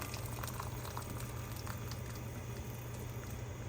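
Kettle water rolling at a boil for homemade pho, a steady dense bubbling and churning with a low rumble underneath, continuous and close throughout, with no voices.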